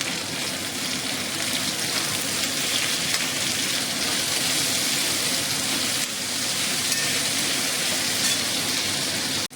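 Onions and green chillies fry in a pan, giving a loud continuous sizzle with a few small crackles. No one talks.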